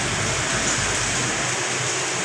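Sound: heavy rain falling in a city street

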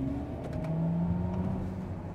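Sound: Mercedes EQS electric car artificial driving sound

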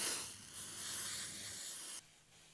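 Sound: spray can spraying suede shoe cleaner

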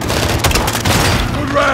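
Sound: launcher explosion, from video game Call of Duty: Modern Warfare 2

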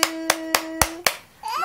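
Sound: baby clapping hands

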